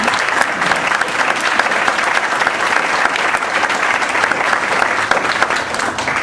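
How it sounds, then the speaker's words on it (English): Sustained, loud audience applause after a talk by Jim Hume at an LA2M event, dense even clapping filling the whole stretch without a break. "Let's give Jim a big round of applause"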